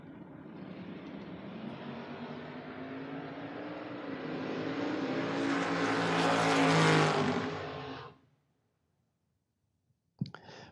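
A convertible Porsche launching down a drag strip: loud engine roar building steadily, rising to a high, raspy peak before cutting off abruptly into silence, followed by a brief sharp noise at the end.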